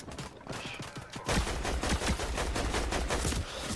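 Dense video game gunfire rattles almost nonstop, a softer burst of shots giving way to a louder, heavier fusillade of rapid, overlapping reports that keeps pounding steadily.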